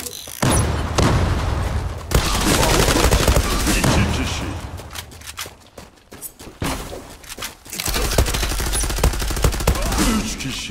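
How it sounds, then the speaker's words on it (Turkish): Gunfire in the Zula shooter game comes as rapid bursts of automatic shots and booms, loud and close, with short lulls between volleys. "Adama sıktım sıktım vuramıyordum az da."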